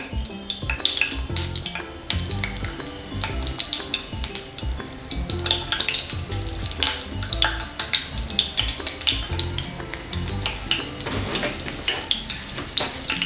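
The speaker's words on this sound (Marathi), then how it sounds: "एक वाटी तेल घेतलं होतं त्यातलं एक दोन तीन चमचे तेल मी यासाठी घेतलेलं आहे पहिल्यांदा मिरच्या घालते" Broken chillies hit a few spoonfuls of hot oil for Gujarati undhiyu, crackling and sizzling continuously nearby, with sharp pops and the occasional clink of a utensil against the pan. No one speaks.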